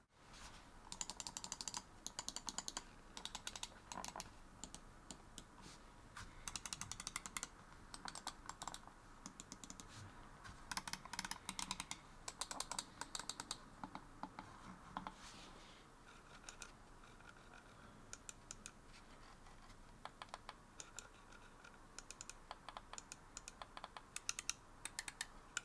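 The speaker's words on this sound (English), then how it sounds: "For those of you that are wondering about the sound of these buttons," Button clicks from an NZXT Lift 2 computer mouse come in quick, crisp bursts of many close, light clicks with short pauses between them, heard alone without talk.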